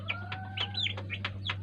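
Chickens and chicks cluck in short, quick bursts against a steady low electrical hum, with a few higher chirps mixed in, nearby and moderately quiet.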